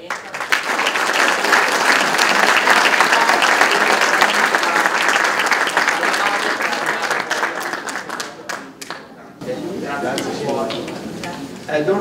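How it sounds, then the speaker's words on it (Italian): An audience at an Italian stage show applauds Roberto and Lorenzo, a dense, loud burst of clapping that thins into scattered claps before a voice begins speaking near the end. "un grande applauso a Roberto e Lorenzo."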